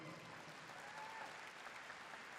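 Steady applause from a church congregation at a sermon, a dense, even wash of clapping that holds throughout the short stretch at moderate, slightly distant volume.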